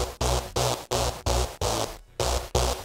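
Synth lead loop run through Bad Tape plugin saturation, eight evenly spaced gritty, distorted stabs with a warm low-end buzz, each cut off by short silent gaps, one beat dropping out near the end.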